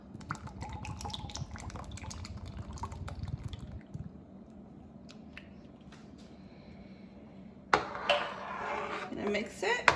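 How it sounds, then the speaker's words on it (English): Evaporated milk poured into simmering rice for arroz con leche, a soft liquid pour and bubbling with spoon or pot clatter, moderately quiet, ending with a louder splashy stir. "now you're gonna add that evaporated milk"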